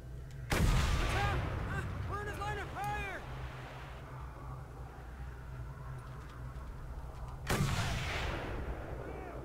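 Two heavy sniper rifle shots in the Mad Max video game, the first near the start and the second several seconds later, each a loud booming crack with a rumbling tail over a steady engine drone, voices talking between the shots.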